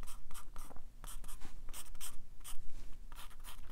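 A pencil scratches short, quick crisscross strokes across paper while drawing plaid lines on a watercolor bear, close and rhythmic, alone without talk.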